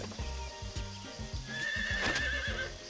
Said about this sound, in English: This time, the horse will come with us